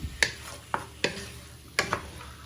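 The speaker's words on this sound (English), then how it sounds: "So you just want to start frying your chicken and chorizo" Chicken and chorizo in a pan being broken up and stirred with a wooden spoon, a series of sharp scraping clacks against a quiet sizzling background, irregular and close.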